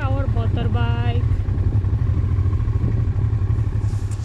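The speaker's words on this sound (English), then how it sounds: "Let's park our motorbike." A Honda TransALP 650 motorbike being parked, its engine running close by with a steady, low mechanical rumble that holds throughout.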